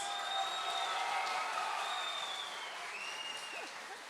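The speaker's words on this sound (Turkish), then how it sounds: "Alkışlarla Recep'i uğurluyoruz değerli izleyicilerimiz." TV talent show studio audience in the Popstar competition applauding as contestant Recep is sent off, a dense, continuous wash of clapping that fades slightly toward the end, with a presenter speaking over it.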